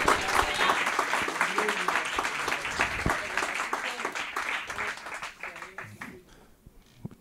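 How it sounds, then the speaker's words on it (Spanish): A church congregation applauds steadily, a dense wash of clapping that gradually thins and fades toward the end. "Dale un aplauso a Yeshua."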